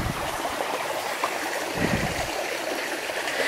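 Babbling brook in the Cheddar Gorge woods, steady broadband rushing and trickling water flowing continuously and close by, with no speech over it.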